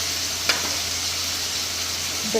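Potatoes fry in a pan with a constant close sizzle, and a single short clack of a utensil sounds near the start.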